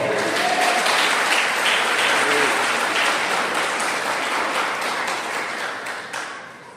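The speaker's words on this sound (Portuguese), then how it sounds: "E quantos podem aplaudir ao Senhor?" Church congregation claps together in a worship service, a loud, full burst of applause that fills the room and gradually tapers off toward the end.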